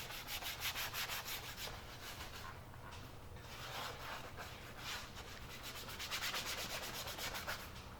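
Steady rubbing and scrubbing of a towel with cleaner across a leather car seat, worked back and forth in continuous close strokes with rhythmic surges, no talking.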